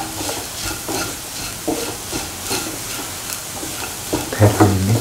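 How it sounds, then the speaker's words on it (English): Potato pickle being stirred by hand with salt and spices, including Kashmiri chilies, mustard seeds and asafoetida. Steady scraping and squelching mixing strokes repeat close up, and a few louder knocks come near the end. "Salt and mix thoroughly."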